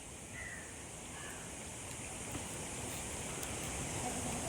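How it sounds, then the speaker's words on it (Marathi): Water flowing at Bhandardara, a steady, even broadband rush like a stream or small waterfall, continuous and moderately close throughout with no voices over it. "किती छान पाण्याचा आवाज येतोय."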